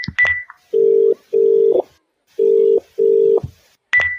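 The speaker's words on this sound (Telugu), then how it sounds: "ఏంటి నాన్న ఫోన్ లిఫ్ట్ చేయట్లేదు?" An outgoing phone call: quick keypad tones, then four steady ringback tones in two pairs with pauses between, the call going unanswered before more button beeps at the end.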